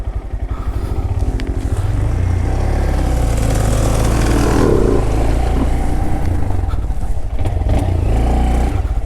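A Honda Grom motorcycle fitted with knobbly tyres runs its engine close by, a loud steady low rumble with throttle swells that carries without a break from start to end.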